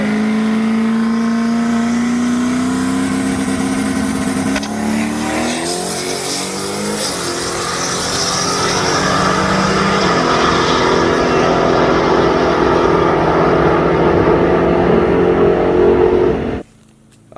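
A turbocharged Camaro makes a quarter-mile drag run, its engine roaring loud and close as it accelerates hard through rising gears in one long sustained pull before cutting off abruptly at the end.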